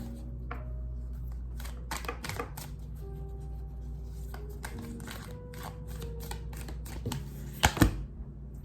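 A deck of tarot cards is shuffled by hand, giving quick flurries of crisp riffling clicks and soft slaps in uneven bursts, with a sharper clatter near the end and no speech.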